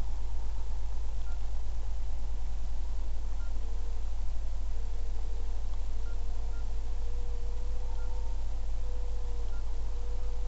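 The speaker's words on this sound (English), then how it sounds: "I'm going to call with my personal cell phone this phone device." A personal cell phone dials a call to another phone: faint, steady dialing tones hold over a constant low hum and hiss, with no voices.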